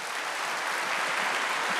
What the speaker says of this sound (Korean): 하나님께 박수 줍시다.